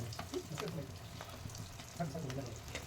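Chicken kabab with curry leaves frying on a medium flame, with a soft continuous sizzle and occasional scraping stir strokes, while a person talks over the cooking.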